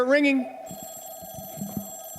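A novelty banana-shaped toy phone rings with a short rising electronic warble, then a steady synthetic tone carries on beneath voices talking close by.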